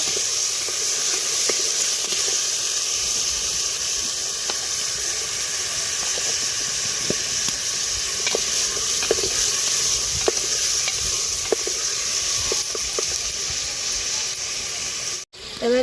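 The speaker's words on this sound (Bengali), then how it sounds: "দিয়ে একটু ভাজা ভাজা করে নেবো" Ginger-garlic paste fries in hot oil in a beef and cabbage curry pot, a steady sizzling hiss broken by intermittent spoon taps and scrapes, ending in a brief knock.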